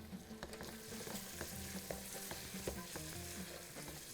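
Onions fry in a pan with a soft, steady sizzle and occasional stirring scrapes that run without a break, quiet and close, with no voices.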